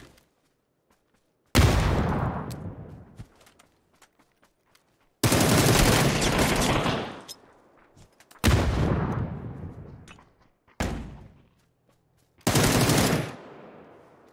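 Bursts of PUBG gunfire, five separate volleys of rapid shots, each loud and close with a decaying tail, separated by short quiet gaps.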